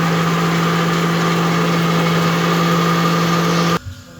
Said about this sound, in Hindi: ग्राइंडर में डाल के इसको 1 मिनट के लिए ग्राइंड करना है